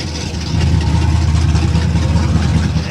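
A 1930 Buick engine idles steadily at a coastal classic-car cruise, a low, even rumble that grows louder after the first half second and holds without revving.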